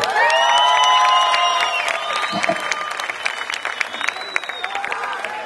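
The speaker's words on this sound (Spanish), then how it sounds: "Bravo, un aplauso muchachos." A rock concert crowd claps, cheers and whoops after a band's song, with shouted voices and whistles rising over dense applause that stays loud before gradually thinning.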